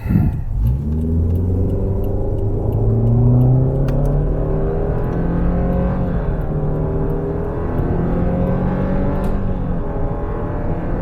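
A Subaru running on LPG accelerates hard for about eleven seconds, its engine note climbing through several gear changes with loud, continuous revving and a steady drone underneath, without any talk.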